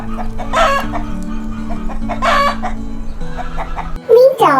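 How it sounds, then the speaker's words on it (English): Farm chickens cluck in busy bursts and a rooster crows near the end, all close and loud over a steady musical backing. "Get ready to cluck along with the busy peckers of the farm,"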